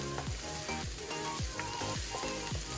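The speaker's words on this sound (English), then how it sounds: "just saute the mushrooms, onions, and garlic all together, like so. Let this cook for a few minutes." Mushrooms, onions and garlic sautéing together in a pan give a steady sizzle and frying hiss, with a regular series of scraping stirs running through it, close and fairly quiet with no voices.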